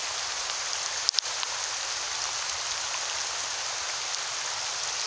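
Hail pelts down steadily during a hailstorm in Whittier, a dense, even patter like heavy rain, with a couple of sharp knocks early on and no talking.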